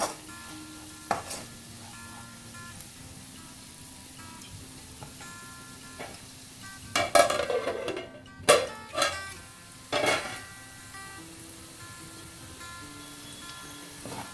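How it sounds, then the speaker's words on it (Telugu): Ivy gourd frying in a pan with chili powder and coriander powder, a steady low sizzle broken by a few louder stirring scrapes and utensil clatters near the middle, with no one talking. "ఇప్పుడు మన దొండకాయ మంచిగా ఫ్రై అయింది."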